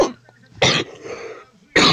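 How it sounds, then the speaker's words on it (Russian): Two sharp, close coughs from a sick woman, one near the start of the stretch and another at the end, with a quieter raspy breath between. "Простите, ребят, у меня кашель, я заболела."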